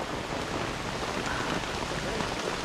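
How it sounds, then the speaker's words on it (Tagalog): Steady rain pours down outside a small nipa hut, a dense, even hiss of drops on surfaces that holds at full strength throughout with no break. "Grabe. Umulan siya madol."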